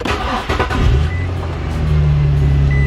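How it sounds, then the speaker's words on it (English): A car engine turns over and catches, then settles into a steady, close idling rumble. "We'll start up the car."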